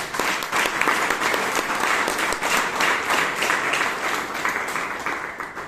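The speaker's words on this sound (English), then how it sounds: "Can we have a big round of applause for Samuel?" A Bangalore Toastmasters audience gives a mentor a big round of applause, a steady, loud wash of many hands clapping for nearly six seconds with no talk over it.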